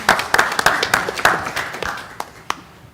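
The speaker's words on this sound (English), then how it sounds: "We can probably give you a round of applause while you're walking up" A small audience at a college board of trustees meeting gives a brief round of applause, a few scattered claps fading out over a couple of seconds.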